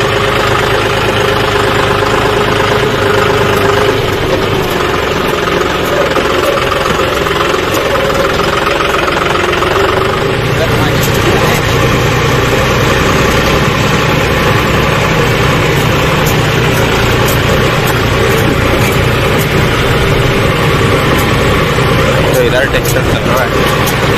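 A John Deere 5310 tractor engine rumbles loudly and steadily throughout during soybean sowing, with a heavy low drone and a voice talking over it.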